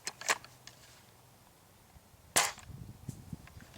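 A King Arms Blaser R93 airsoft sniper rifle fires 0.2 gram BBs through a chronograph, with two sharp, fairly quiet snaps separated by a pause and small handling clicks between them.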